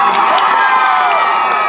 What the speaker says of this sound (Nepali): राम्रो नआदि ताली बजाइदिनु एकचोटि